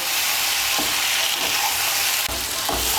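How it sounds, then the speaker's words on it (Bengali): Potatoes, raw banana and other vegetables fry in a pan with a loud, steady sizzle, and a spatula scrapes and stirs them a few times, up close. "আলু আর কাঁচা কলাগুলো সবজির সঙ্গে ভালো করে মিশিয়ে নিয়ে আর একটু আমি সব সবজিগুলো কষিয়ে নেব।"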